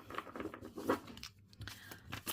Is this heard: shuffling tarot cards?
yes